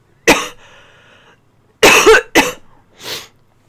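A person coughs repeatedly and sharply: one isolated cough, then a tight cluster of two or three harsh coughs, and a softer final one, all close to the microphone with quiet pauses between them.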